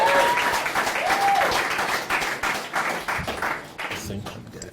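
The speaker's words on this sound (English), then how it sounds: "A round of applause." An audience applauds at a startup pitch event in London, with dense, steady clapping that gradually thins out while voices are heard underneath.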